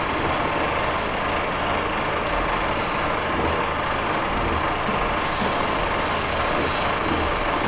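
Class 143 train in Train Simulator braking, a steady loud hiss and rumble of air brakes running continuously with brief higher releases of air, no talk over it.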